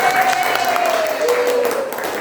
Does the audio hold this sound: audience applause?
yes